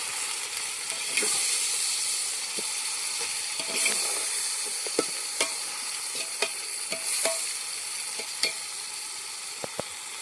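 A spatula scrapes and taps in a frying pan as tomatoes are stirred with onions, irregular clinks over a constant sizzle.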